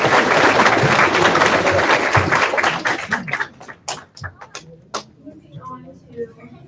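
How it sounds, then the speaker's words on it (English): Audience applause at a public schools learning center graduation ceremony: dense, loud clapping that thins out after about three seconds into scattered individual claps, with some voices underneath. "let's give all of those people a round of applause"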